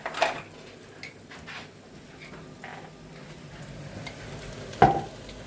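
Diced chicken sizzles softly in a pan as mustard is stirred in, a low steady frying hiss broken by a couple of sharp utensil clinks against the pan.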